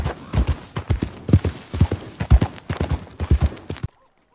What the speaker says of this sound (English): And look at this pretty horse.